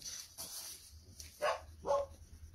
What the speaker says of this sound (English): I'm sorry if my dog barks